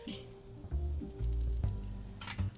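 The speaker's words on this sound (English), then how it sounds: "Remove the chimney, flip the steak" A porterhouse steak hits the grill after being turned, giving a steady close sizzle with a few louder bursts and light scraping as the meat shifts and settles.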